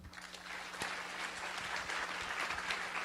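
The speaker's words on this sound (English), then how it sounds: "let's give Michelle a round of applause" Audience applause for Michelle Kiang as she is welcomed onstage at a North American Taiwanese tech conference opening keynote; steady, moderately faint clapping from a hall crowd throughout, with a low steady hum underneath.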